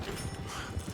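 Horses in Red Dead Redemption 2 make quick, muffled clip-clop hoofbeats over a steady ambient bed during a brief moment with no speech.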